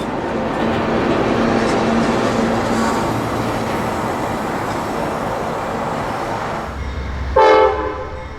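A freight train hauling jumbo covered hoppers and an empty LP gas tank car rolls past in Tampa with a steady rumble and rattle, closing with a brief loud horn-like blast near the end.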